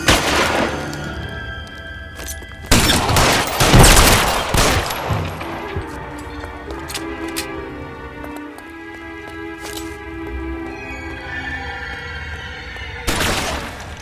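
Gunfire rings out in the L.A. Noire video game: loud bursts of shots and impacts cluster early, then sparser shots continue over a steady backdrop, with a final sharp volley at the end.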